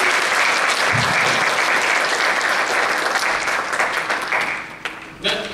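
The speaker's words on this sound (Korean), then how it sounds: "박수 한번 부탁드릴게요" Church congregation in Auckland applauding during a Sunday service, a full burst of clapping that tapers off toward the end as a voice starts speaking.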